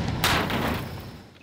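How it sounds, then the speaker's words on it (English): An automatic door release fires in the TV series 68 Whiskey as one sharp thud or slam, followed by a brief rushing decay in a noisy scene. "The automatic door release is especially impressive."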